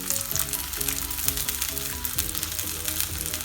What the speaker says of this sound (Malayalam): അങ്ങനത്തെ വറവാണ് ഞാൻ എരിശ്ശേരിയിലേക്ക് ചേർക്കുന്നത്.